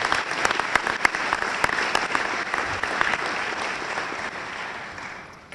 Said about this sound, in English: Maybe we could give them a round of applause as well for the support that they provided.